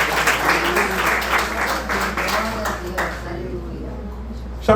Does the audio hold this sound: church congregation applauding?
yes